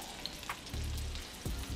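Panko-breaded flounder and trout sizzle in oil that is running too hot, a close, steady frying crackle with a couple of louder bursts as pieces shift in the pan, and no voices.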